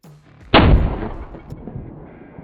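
A single loud rifle shot fired from a recoil test fixture, a sharp close blast followed by a short decaying rumble.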